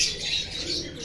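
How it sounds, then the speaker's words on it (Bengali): Pigeons on a farm, soft close cooing and faint chirps with a brief rustle of wings, brief and fairly quiet. "দেখুন পায়রাগুলোকে"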